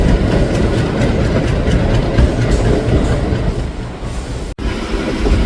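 A train rumbles steadily at close range during shunting at Howrah station, near the Sealdah–Asansol Intercity, with heavy low clatter and a brief dropout near the end.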